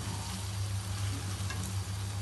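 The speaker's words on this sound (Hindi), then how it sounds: "अब हम इसकी अच्छी तरह बुनाई करेंगे हाई फ्लेम पर।" Steamed mash dal (urad) frying in a pan over a high flame, a steady close hiss and sizzle with faint stirring scrapes, no voices.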